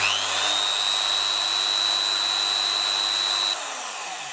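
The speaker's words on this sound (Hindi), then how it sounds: "अब यहाँ पे मैं ड्रिल मशीन को ऑन करूँगा" An electric drill machine runs steadily at high speed, a loud continuous whine with a sustained pitched tone, then cuts off near the end leaving a fading hum.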